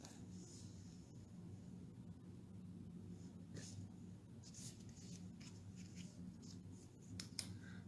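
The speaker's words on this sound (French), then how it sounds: "Il s'agit juste de couper les mots." Scissors cut through printed paper to free individual words for a handmade card, a series of faint, crisp snips and rustles scattered irregularly over several seconds in a quiet room.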